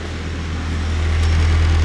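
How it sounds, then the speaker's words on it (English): A Nissan S14's engine idles with its clutch fan running, a steady low hum and whir that holds even and continuous throughout, rising slightly in level partway through, with no voices. "It's just the clutch fan you can hear."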